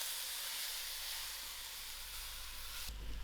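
Pumpkin frying in a pan gives a steady, soft hiss and sizzle throughout, with a brief low thump near the end.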